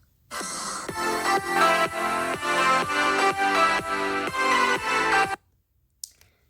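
A short song plays from a tablet app through a small speaker with steady rhythmic beats, then stops abruptly, leaving near silence and a single faint click.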